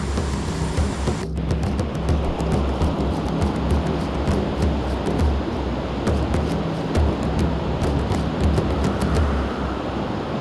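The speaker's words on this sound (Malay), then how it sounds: "Hujan dah turun." Heavy rain falls outdoors at a river fishing spot, making a dense, steady hiss of drops with a low rumbling wash that continues evenly throughout.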